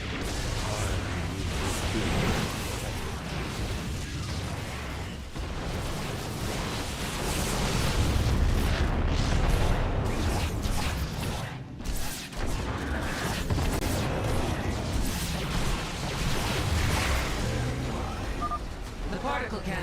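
Particle cannons blow up in the StarCraft II: Legacy of the Void campaign. Rolling explosive booms, whooshes and mechanical rumble continue for about twenty seconds and rise to a dense peak midway, mixed with voice-like game sounds.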